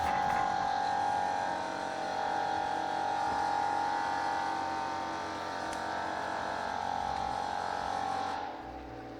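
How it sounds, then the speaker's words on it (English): Air compressor charging on a Vulcan 25 kW gasifier system, a steady loud electric hum and whine that holds for most of the stretch and then drops off near the end. "That's the air compressor charging."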